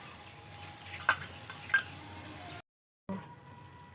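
Spice paste mixed with water is added to a hot wok while making muri ghonto with rohu fish head, giving a soft steady sizzle with a couple of brief splashes. A short silence comes before the sizzle resumes.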